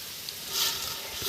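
Puti fish fry in a pan, giving off a steady, bright, crackling sizzle of hot oil that swells slightly midway and stays close and continuous, with no talk.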